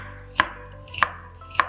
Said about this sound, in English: Really simple to chop an onion really fine.